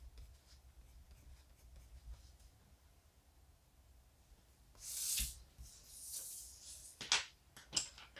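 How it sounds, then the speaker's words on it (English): Colored pencil scratching across paper during adult coloring, with the pencil rotated to keep a sharp edge: quiet, soft strokes under faint background, then a few louder rasping passes near the end. "I'm going to keep rotating my pencil so that way I always have a sharp edge."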